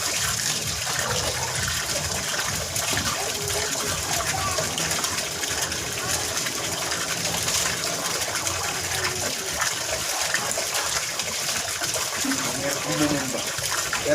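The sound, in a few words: water gushing strongly from a tap for laundry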